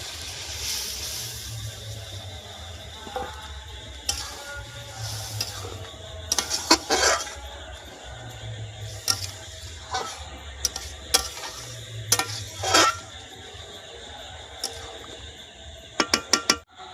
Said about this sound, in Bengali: এবার সিদ্ধ করে রাখা ডালটা দিয়ে দেব।